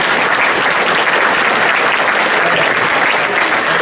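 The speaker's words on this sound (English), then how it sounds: "We can sit here and clap all we want." A crowd at Huber's Winery claps together in a dense, continuous wash of applause, loud and close, with no break.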